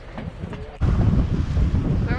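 Wild Ocean Tasmania tour boat out on the water near Port Arthur, a loud low rumble of engine and wind buffeting the microphone, jumping louder after a brief quieter start.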